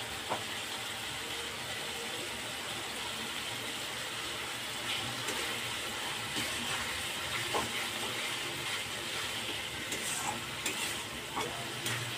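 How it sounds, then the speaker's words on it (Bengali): Spice masala for a Bengali red koi fish curry with crushed cardamom, cinnamon and cloves sizzles steadily in a pan, a continuous hiss broken by occasional scrapes and clinks of stirring, close and fairly quiet with no talk. "মশলাটা আমার খুব সুন্দরভাবে কষানো হয়ে গেছে"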